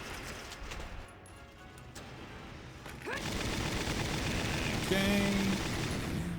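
Machine gun fire in the war video game Valkyria Chronicles comes in as a loud, sustained burst of rapid shots after a quieter stretch, close and dense. A voice speaks briefly before the firing.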